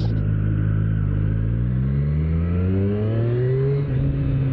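A 2025 Triumph Street Triple RS with ride-by-wire throttle revs hard, its engine note climbing steadily in pitch over a deep rumble, loud and close throughout.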